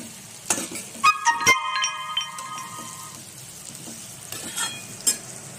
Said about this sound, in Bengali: লবণ দিয়ে একটু বেগুনটা ভেজে নিচ্ছি